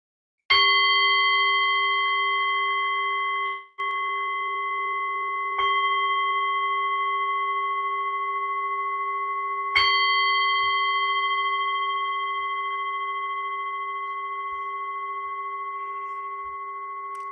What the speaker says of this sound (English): I will just ring the bell